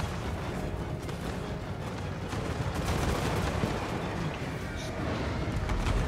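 A defense tower firing in a Total War: Warhammer 2 battle, heard as a dense, continuous din of crackling shots and booming impacts that keeps a steady, loud level.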